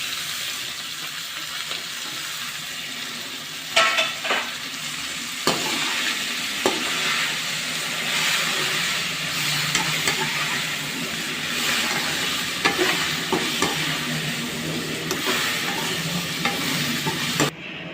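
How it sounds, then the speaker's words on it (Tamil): Keerai greens are sautéed with tomato in a pan for a thuvaiyal, a ground chutney. A steady, close sizzle runs throughout, broken by occasional scraping knocks of the spatula. "இந்த டைமில் நம்ம கீரையை சேர்த்து ஒரு வதக்கிக்கலாம்."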